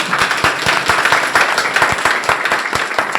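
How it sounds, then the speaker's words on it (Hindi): An audience at a talk breaks into loud applause, a steady close patter of many hands clapping with no voices over it. "एक बार जोरदार तालियां सुनिए"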